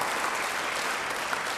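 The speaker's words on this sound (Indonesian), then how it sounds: "Beri tepuk tangan yang baik bagi dia." A church congregation gives sustained applause during an Indonesian sermon, a brief dense burst of many hands clapping at steady volume.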